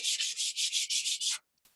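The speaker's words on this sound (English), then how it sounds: "as we sand it, it kind of gives it that like distressed farmhouse feel to it" Hand sanding of a painted wooden sign to give it a distressed farmhouse look: about eight quick rhythmic rasping strokes, close and steady, then a brief faint scrape after a pause.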